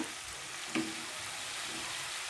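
Tomatoes frying in a pan with drumstick leaves for a makhana (lotus seed) chitranna, giving a steady, soft sizzle with a brief stir or scrape near the start, no voices.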